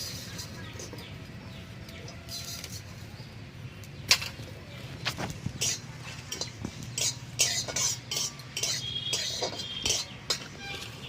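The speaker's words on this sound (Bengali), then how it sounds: "কড়াই গরম হয়ে গেছে আমি এবার খালি খোলায় কিছুটা জিরে ভেজে নেব" Cumin seeds dry-roast in an empty hot wok, with scattered light clinks and sharp ticks of seeds and a stirring utensil against the metal, growing busier over a low background hum.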